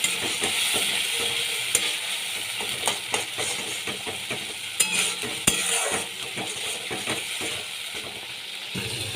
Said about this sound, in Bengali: কিছুক্ষণ ভালো করে আমি কষিয়ে নিচ্ছি মশলাগুলোকে এর মধ্যে আমি সর্ষে রসুন আর লঙ্কা বাটা দিয়ে দিচ্ছি